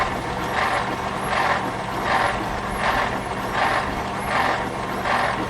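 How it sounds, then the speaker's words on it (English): A 1950 DeSoto flathead six engine turning over on its starter, a loud steady mechanical churn with rhythmic pulses repeating about every 0.7 seconds, close and continuous with no voices. "I could jump the starter and give the engine a turn at the same time"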